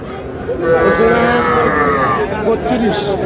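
Bulls and heifers mooing at a village cattle market, one long loud close moo running over two seconds, with people talking and chattering in the background.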